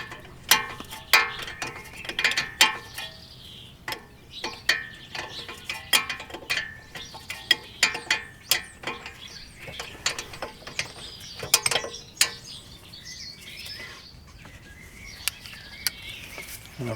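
A ratchet driving a 13mm socket on a car's front brakes, rapid close clicking in short bursts with metallic clinks, and faint birdsong in the background.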